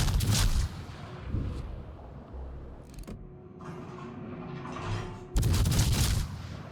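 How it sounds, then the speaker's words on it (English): Naval gunfire in a warship video game: heavy booming salvos at the start and end with a rumbling lull and a mechanical hum between, loud and close, with no talk. "I'm just going to keep on shooting at him"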